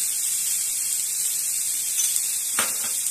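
Eggplant frying in a pan for a neem-leaf recipe: steady bright sizzling throughout, with a brief clatter of stirring near the end and no voices.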